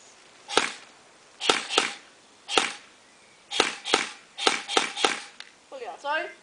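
An airsoft gun fires in semi-automatic mode, about ten sharp, close, single cracks spaced irregularly, followed by a brief mechanical rattle at the end.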